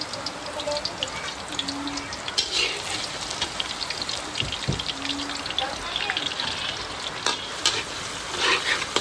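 Onion and garlic sautéing in a pan for a chicken soup, a continuous oily sizzle with occasional scrapes and stirring clatter running throughout at a moderate level.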